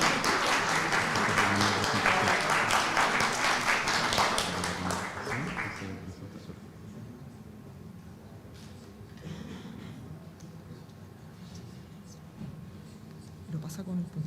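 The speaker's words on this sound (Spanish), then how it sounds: "un aplauso." A seminar audience at an international climate change event applauds for about six seconds, steady and fairly full, then the clapping stops and quiet room sounds and soft talk follow.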